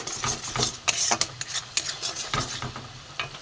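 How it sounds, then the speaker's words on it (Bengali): Spice masala being stir-fried in a pan over low gas for a fish curry: a spoon scrapes and stirs in quick irregular strokes over a soft, steady sizzle, close and alone. "মশলাটা একটু ভালো করে কষিয়ে নিই গ্যাসটা কমিয়ে দিয়েছিলাম পুড়ে যায় বলে"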